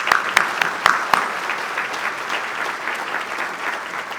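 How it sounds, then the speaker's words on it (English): An audience claps for the Hampton Roads Chamber staff at the City of Suffolk State of the City event, the applause steady and moderately close, with a few sharper claps standing out at the start. "Can I get a round of applause for that staff?"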